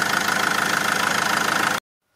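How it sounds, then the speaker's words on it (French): A Mercedes C200 engine with two seized injectors runs steadily at idle, a loud, even mechanical churn with a faint rhythmic knock, then cuts off abruptly into silence near the end. "Donc j'ai fait tourner le moteur"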